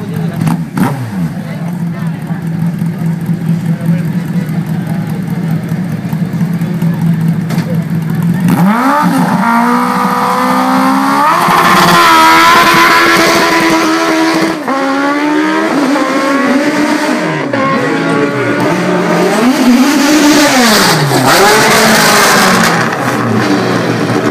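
A Formula 3000 race car in a hill climb revs hard through rising and falling gear changes, loud and close, after a steady engine idle, while a commentator talks over it.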